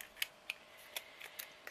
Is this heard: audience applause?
no